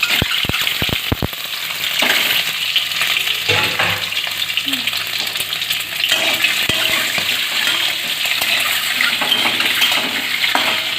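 Eggs shallow-fry in a little oil in a kadai with a dense, continuous crackling sizzle. A few sharp taps come at the start, and the spitting runs steadily throughout with no voices.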